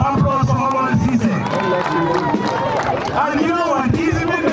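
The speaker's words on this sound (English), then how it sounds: "can we have a round of applause for Omar Sise?" Crowd at a Gambian football tournament final between Saraba FC and Harmony cheering and clapping, a lively roar of voices and applause swelling and falling with a voice over it.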